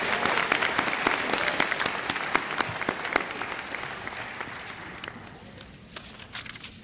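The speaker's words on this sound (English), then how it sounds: "Let's give them another round of applause." Audience applause at a 2016 graduation ceremony, a dense, steady crowd of clapping hands that fills the whole stretch and thins slightly toward the end.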